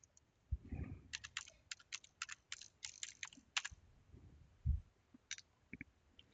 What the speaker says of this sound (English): type lisinopril into the search field and press Enter